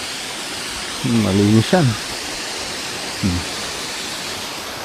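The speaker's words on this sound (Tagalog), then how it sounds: "kita nyo yung waterfalls" Steady rushing water from a spring-fed waterfall at Harrison Hot Springs, British Columbia, a continuous hiss throughout, with a voice speaking briefly over it.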